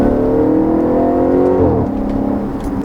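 A 2013 Audi RS5 revving out to about 5,500 rpm, a loud close engine howl that holds a rising note, then drops back as the throttle closes, with no talking.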